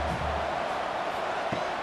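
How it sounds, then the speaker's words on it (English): Stadium crowd noise in an American football video game during the final minute, a steady roaring wash of cheering voices that holds at a fairly even level from start to finish. "Crowd really getting into it here in the final minute"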